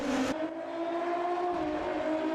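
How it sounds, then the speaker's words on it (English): Race car engines in the Automobilista 2 sim racing game, revving together at a standing start of a community sprint race at Interlagos, a steady loud drone of several engines with held tones, no talk. "The revs rise for round 5, and that is a jump start from the 28"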